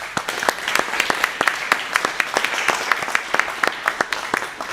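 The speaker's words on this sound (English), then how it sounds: "I really give a round of applause to these two finalists." Audience applause for two snooker finalists at a US Masters final, a steady close patter of many hands clapping with sharp individual claps standing out throughout.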